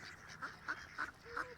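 Large ducks quack back and forth at each other in a quick run of four nasal calls, fairly faint and close, over a quiet outdoor background.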